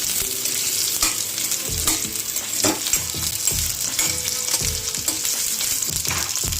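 Onions sauté in oil in a pan for misal, a continuous loud sizzle broken by repeated scraping and knocking of a spoon against the pan as they are stirred, close up with no talking.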